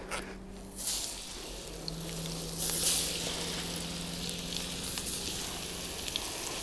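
Perch fillets sizzle steadily in hot butter in a pan set over an open campfire, a continuous close frying hiss with a brief louder flare partway through and no talking.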